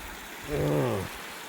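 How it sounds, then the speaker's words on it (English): A river or creek flows as a steady broadband rushing hiss, constant and moderately close, with a brief hum-like tonal sound rising over it in the middle. "Got the river going, creek."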